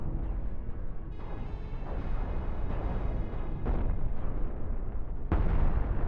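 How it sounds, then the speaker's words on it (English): Cannons firing in the space combat game Cosmoteer, a dense barrage of deep booming blasts with a rumbling background and a sharper, louder burst near the end. "There we go. Cannons away."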